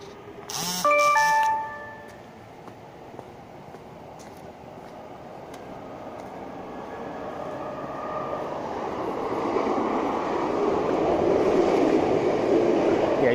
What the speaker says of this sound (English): you can hear the trains as it goes by already